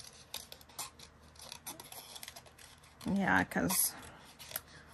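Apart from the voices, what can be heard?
scissors fussy cutting paper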